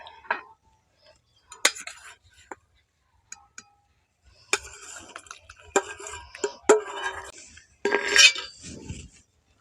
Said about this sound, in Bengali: এবারে গুড়টা দিয়ে এইভাবে করে নাড়াচাড়া করতে হবে।